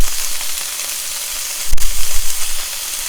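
Tofu crumbles frying and crisping in a hot pan for tofu bulgogi, a steady soft sizzle with a few louder pops and stirring bursts near the middle, close and alone.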